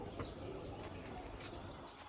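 Pigeon cooing among a group of fancy-line pet pigeons, soft low repeated coos over a steady murmur of background noise, fairly faint and continuous.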